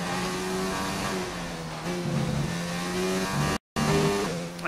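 An F1 car engine in F1 2019, the Ferrari, revs loud and close with rising and falling pitch through gear changes and corners, with a faint tyre squeal and a brief dropout near the end, and no talk.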